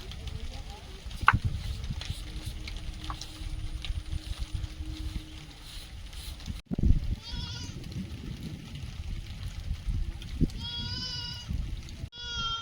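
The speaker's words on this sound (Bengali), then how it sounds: "আজকে মাঠে গরু ছাগল ভর্তি হয়ে আছে" Goats bleat several times in a field where cows are also grazing, a few higher calls standing out over steady outdoor background noise and a low hum.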